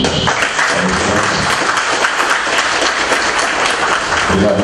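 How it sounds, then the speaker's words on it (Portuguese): Loud, sustained applause from an audience closing a round-table discussion, many hands clapping in a thick, even wash close to the microphone, with faint voices underneath. "Gostaria de uma salva de palmas dos nossos palestrantes."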